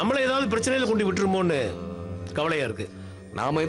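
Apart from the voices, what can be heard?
No everyday noise stands out behind the speech.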